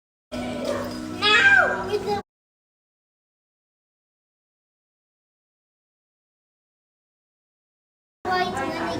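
A cat meows while children play with cats at home, a short rising and falling meow amid children's voices in a brief burst, followed by silence and then more chatter.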